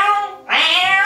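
A cat meows to be let in from the snowy outdoors, giving one close, loud, drawn-out two-part cry.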